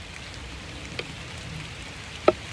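Light rain falls outdoors as a soft, steady patter with scattered drops, faint and even, broken by a couple of sharper single drips or taps near the end.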